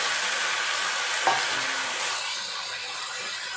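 Tomatoes dropped into a hot pan and frying, a broad steady sizzle with a single clink of a spoon early on, close and moderately loud, fading slightly toward the end.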